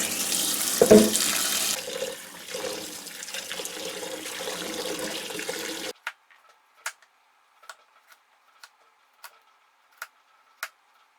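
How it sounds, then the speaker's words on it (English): Kitchen tap running water over freshly cut burdock root, a steady rushing stream that stops abruptly, followed by faint ticking from a clock. "Once you cut all the burdock, you want to rinse it."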